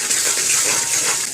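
A steady, close rush of water pouring briefly without pause into a cooking pan of frying onions and spices.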